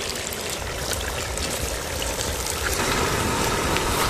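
A Telangana-style chicken curry made with palm wine simmers in a pot, giving a steady, loud, close wash of bubbling and hissing with no voices.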